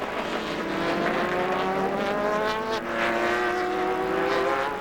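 A Zytek Le Mans prototype race car at Silverstone in the 2005 Le Mans Endurance Series, its engine note rising through the gears as it passes fairly near, loud and steady with no talk.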